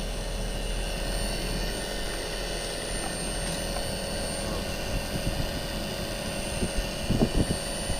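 A BOWA heat pump compressor runs with a steady mechanical hum and tonal whine, building pressure, with faint handling noises near the end.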